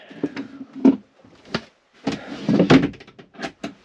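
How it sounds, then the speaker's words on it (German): Drawers on a boat slide and bang shut in a loose series of sharp wooden knocks and rattles, some close together and some spaced apart, heard near and fairly loud. "Die Schubladen hätten wir doch richtig zumachen müssen"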